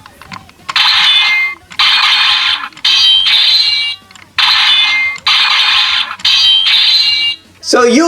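A Power Rangers Ninja Steel DX Ninja Battle Morpher toy plays loud electronic sound effects: repeated bright, buzzy tonal bursts roughly one second each, separated by short gaps. A final different chirp follows, recorded close with no talking over it.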